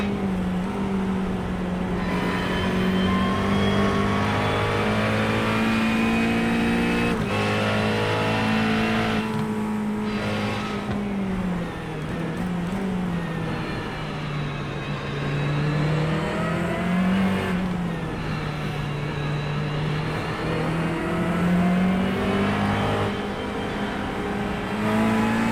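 GT3 race car engines lapping Summit Point in iRacing, a steady loud engine drone that rises and falls in pitch as the cars accelerate, shift and brake, with no talk.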